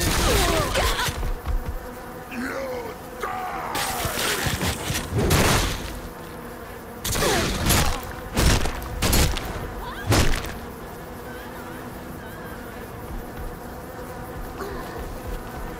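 A swarm of bees in the action game Saints Row The Third buzzes loudly and continuously, with bursts of thumping, gunfire-like impacts in the first half before the droning carries on alone.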